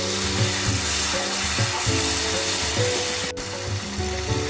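A little water is added to garlic-laced ground spice paste frying for a bata fish curry, giving a steady crackling sizzle over a low hum, close and fairly loud, with no talking.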